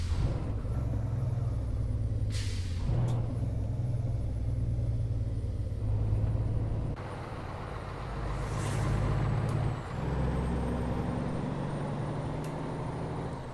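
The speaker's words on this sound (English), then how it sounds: "That truck stopped way back." Truck engine rumble in American Truck Simulator, a Western Star 4800B driving, with a low steady drone throughout and brief bright hissy bursts like air brake releases near 2 and 8.5 seconds, no talking.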